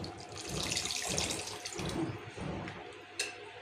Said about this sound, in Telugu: కొద్దిగా నీళ్ళు చేసుకుని